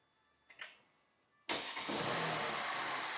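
A Mercedes W212 E350 with the M276 engine, after intake manifold repair and valve decarbonization, is started: a brief crank follows a quiet pause, then the engine catches and settles into a steady, close idle.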